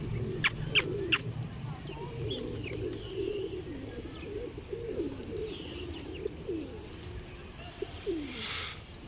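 Sparrows feeding at a garden bird feeder in early February, giving scattered bright chirps and tweets over a steady bed of lower cooing and rustling bird sounds, fairly close and continuous throughout.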